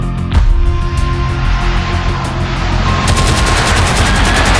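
Documentary reconstruction of a Dutch aircraft air raid on Malang in 1947, with rapid machine gun bursts and booming bomb blasts over a constant aircraft roar, loud and dense throughout.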